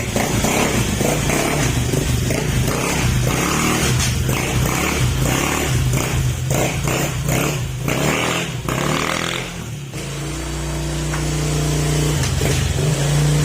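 A car engine with hard-started timing trouble runs steadily and loudly close up, holding a constant idle rumble before dipping briefly and rising again near the end.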